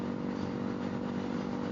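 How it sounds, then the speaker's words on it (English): A 450 RL short-stroke motorcycle engine runs with a low, deep, steady drone and a faint clatter, moderately close and alone for under two seconds. "It's much lower, much deeper, because the 450 RL is a short stroke engine"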